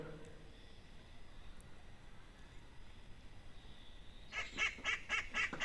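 A faint outdoor hush on an estate, then a burst of repeated quacking and honking from ducks and ducklings near the end, several calls in quick succession.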